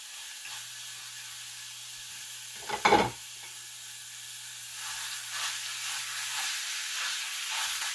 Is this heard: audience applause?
no